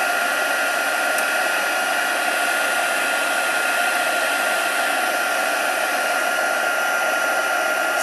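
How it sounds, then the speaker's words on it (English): A craft heat tool blows hot air to melt embossing powder, a constant loud hiss and whine running unchanged throughout with no voices. "Heat your heat tool up,"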